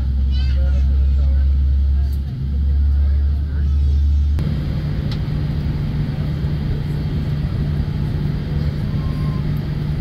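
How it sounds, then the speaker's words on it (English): Airliner taxiing toward the runway at JFK airport, a steady low engine drone and cabin rumble that shifts to a different hum partway through, with faint chatter in the cabin. "We have started our taxiing process."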